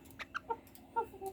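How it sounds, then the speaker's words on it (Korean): Small Serama hen clucking: a few short, close, soft clucks spaced irregularly over about a second, with no talking. "세상에서 가장 작은 닭. 세레마랍니다."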